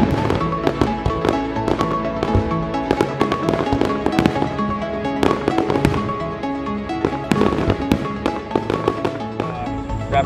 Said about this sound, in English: really good fireworks display, lots of footage of that